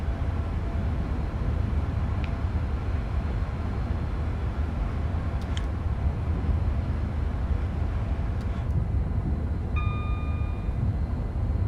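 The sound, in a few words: train running in Train Sim World 5 video game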